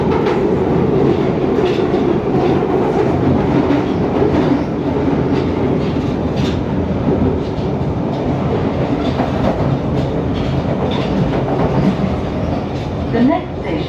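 A four-coach London Waterloo & City Line underground train running through a tunnel, a loud continuous rumble with rhythmic wheel clatter and a brief squeal near the end.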